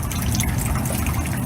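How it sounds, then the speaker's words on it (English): Artificial rain switched on in a cartoon rainforest garden hisses as a dense, steady wash of falling water, close and constant. "Miss Rabbit flips a switch and turns on the rain"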